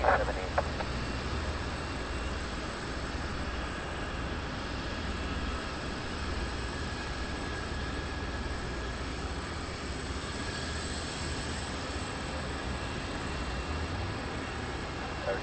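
A FedEx Boeing 777F freighter taking off at Taiwan Taoyuan International Airport, a steady, loud broadband engine roar that holds evenly throughout with a faint tonal whine above it.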